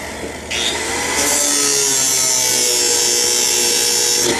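A power sander grinds down a hand-forged metal piece at a blacksmithing demonstration, producing a loud, steady abrasive hiss that rises sharply after a brief start and continues unbroken to the end.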